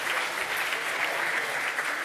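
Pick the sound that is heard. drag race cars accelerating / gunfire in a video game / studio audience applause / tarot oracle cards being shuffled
studio audience applause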